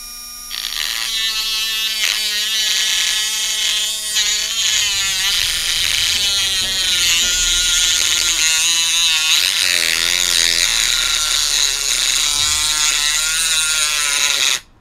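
A Topshak TS-MG1 cordless mini grinder cuts through a small aluminium tube, giving a loud, steady high-pitched whine with shifting tones that runs unbroken for about fourteen seconds before stopping abruptly.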